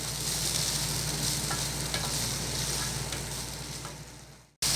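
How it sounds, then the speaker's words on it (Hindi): Tomato, green capsicum and spring onion leaves fry lightly in a pan with a loud, even, close sizzle that fades slightly, cuts out abruptly near the end, then returns. "अब मैं इन्हें लाइट फ्राई कर लूँगी।"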